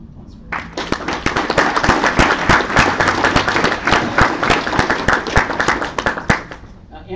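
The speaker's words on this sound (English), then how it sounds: "So one more round of applause for" Audience applause at an awards ceremony opening the 2018 CEDA Nationals debate tournament, a loud crowd of clapping hands with sharp individual claps standing out, building quickly and sustained throughout.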